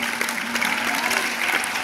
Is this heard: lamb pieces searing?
no